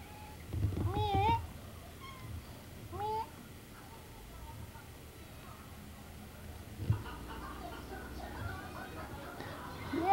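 A cat meows a few times, short rising cries, fairly close, with quiet background and some soft sounds between.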